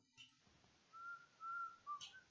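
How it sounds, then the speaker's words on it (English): Faint, thin whistling in the Baldi's Basics in Education and Learning video game, a few short, high melodic notes drifting over a quiet background with a brief soft noise burst at start and end. "I don't know who's whistling."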